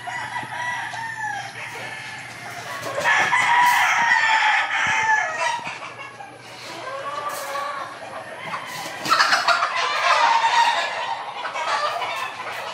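Blue Face Hatch chickens, with a rooster crowing several times among clucking flock sounds and background voices.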